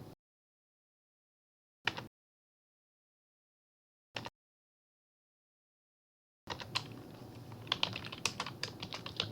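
Computer keyboard typing: two brief bursts separated by silence, then a steady run of close, crisp key clicks for the last few seconds.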